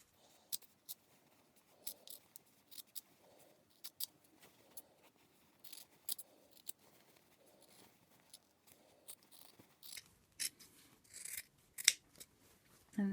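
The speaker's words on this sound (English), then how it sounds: "So I'm going to trim the seam allowance, so I'm going to cut about half off all the way along." Scissors trimming the seam allowance of a fabric neckline facing, cutting through several layers: a series of short, crisp snips spaced unevenly, quiet and close, growing a little denser and louder toward the end.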